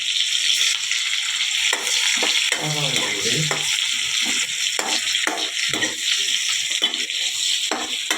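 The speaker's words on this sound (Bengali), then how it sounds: "একটু পেঁয়াজ আর রসুনটা তেলে ভাজা ভাজা করবো" Onion and garlic fry in hot oil with a close, continuous sizzle, broken by repeated scraping and stirring strokes and a few brief clunks of a utensil against the pan.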